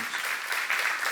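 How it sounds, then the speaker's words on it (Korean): A church congregation claps briefly in a dense, even burst of applause at moderate volume. "박수 한번 하세요"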